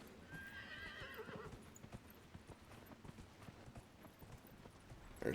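A horse in Elden Ring gallops with quick rhythmic hoofbeats, opening with a clear neigh at the start, then steady drumming hooves at moderate volume under background game sound.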